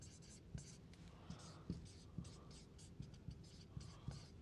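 A marker or chalk scratching out math on a board during a multivariable calculus lecture: faint, steady strokes with small regular taps as each symbol is written, heard close in a quiet room.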